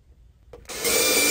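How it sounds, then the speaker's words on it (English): A drill bites into a wooden amplifier cabinet, starting abruptly after a quiet moment and building into a loud, steady grinding whine close by. "And we'll just drill the hole here."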